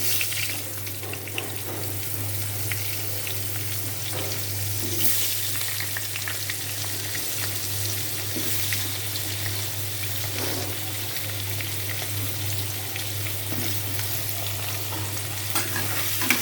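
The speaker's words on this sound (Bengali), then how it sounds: "এখন আলুগুলো ভেজে নেব" Potatoes frying in a pan, a steady close sizzle with occasional stirring scrapes that carries on without pause beneath a constant low hum.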